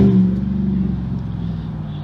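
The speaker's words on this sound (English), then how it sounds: "The exhaust is loud on the truck." A 2006 Audi A6 3.2 Quattro idles with a loud, deep exhaust rumble, heard close and steady for a couple of seconds with no voices.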